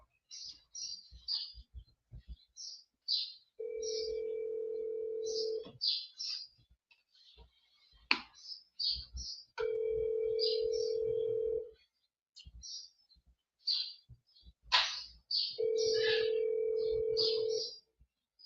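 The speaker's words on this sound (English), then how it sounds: "I'm gonna give her a call." Phone call ringback: three steady, evenly spaced tones sound clearly over a quiet background of bird chirps and clicks.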